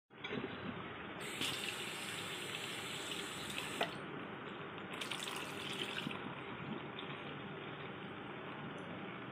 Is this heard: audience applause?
no